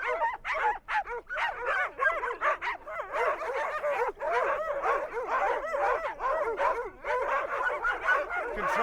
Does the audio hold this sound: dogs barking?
yes